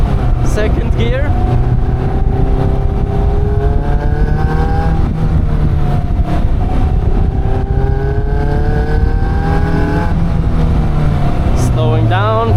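A Caterham 340S sports car engine accelerates hard in second gear, a loud, close rising drone with a gear shift and road and wind roar throughout.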